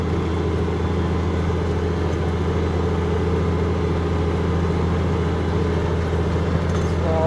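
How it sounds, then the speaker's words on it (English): A tractor engine drones loud and steady under load while plowing, a constant low rumble with vibration from inside the cab and no talking. "We're now in the other T7. We are plowing."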